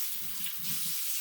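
Water runs steadily from a kitchen tap during a handwash while cooking London broil, a soft continuous hiss heard briefly and alone.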